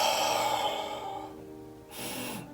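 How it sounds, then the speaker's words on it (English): Slow, deep breathing up close, a long airy exhale that fades out and is followed by a sharper, shorter breath with no words spoken. "breathing,"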